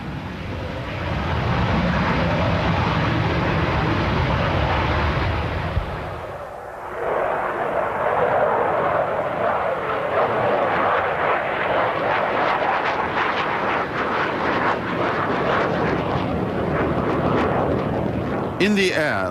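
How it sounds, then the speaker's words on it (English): The E-155 jet, prototype of the MiG-25, roars loud and close on its first flight, a broad engine rumble that dips briefly and swells again, with a voice talking over it. "It is the first flight of the E-155, the prototype of what was to become the MiG-25."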